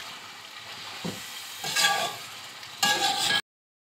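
Ground coriander being stirred into a spicy Kashmiri chicken karahi in a pan. Soft background sizzle is broken by a few louder bursts of stirring and scraping, and the sound then stops abruptly.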